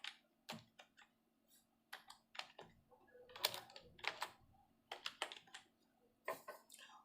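Irregular, quiet keystrokes on a computer keyboard while entering a field name in a Microsoft Access table, a run of soft clicks with short pauses and no talk.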